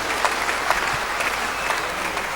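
Steady audience applause at a church gathering, dense even clapping from a crowd sustained throughout with no break, fairly close and continuous.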